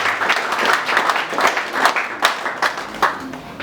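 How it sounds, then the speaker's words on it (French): An audience at a meeting claps in a steady patter, loud and close, with bursts of crowd noise mixed in. "Je vous demande encore une fois de plus de pouvoir acclamer très fort."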